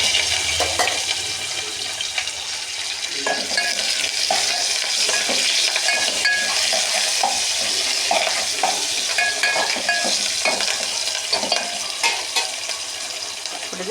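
Spices crackling and sizzling in hot oil as tempering for an okra chutney, a steady close fry with scattered pops and occasional stirring clinks of a utensil in the pan.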